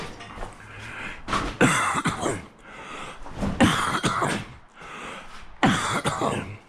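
A person in a scrap shop coughs and clears their throat repeatedly, several harsh, close bursts spread across the stretch with short pauses between them.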